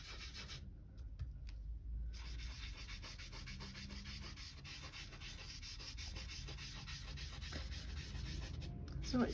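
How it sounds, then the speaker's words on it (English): Soft, steady rubbing of a cotton wool pad blending pastel across paper for a galaxy-style background, a continuous close brushing texture that runs for several seconds without speech. "So it's really easy to blend these with a cotton wool pad."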